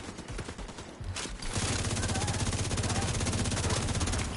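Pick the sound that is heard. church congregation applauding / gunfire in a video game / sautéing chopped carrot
gunfire in a video game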